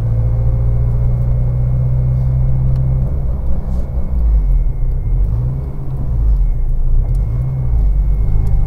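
A front-wheel-drive Honda Integra Turbo makes a loud, steady engine drone heard from inside as it drives, with the pitch dipping and rising between gears, alone and with no talking.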